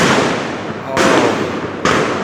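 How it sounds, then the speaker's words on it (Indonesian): Firecrackers burst at a tense night street protest outside a police headquarters gate in Jakarta, with two sharp loud bangs cutting through a dense roar of crowd noise and shouting voices. "ada beberapa suara tembakan petasan"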